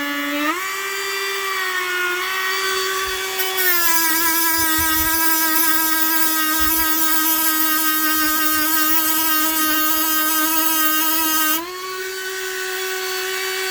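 Dremel rotary tool smoothing a part of a Gottlieb pinball machine, a loud close high-pitched whine that steps up in speed partway through, holds steady, then drops slightly near the end, with no talk.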